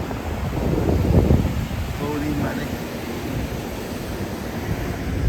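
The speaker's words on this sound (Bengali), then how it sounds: "ওই দূরে শুনতে পাচ্ছি সমুদ্রের গর্জন" Ocean surf rolls in at Marina Beach in Chennai as a steady broadband roar with wind buffeting the microphone, swelling around the first second and a half, while faint voices murmur nearby.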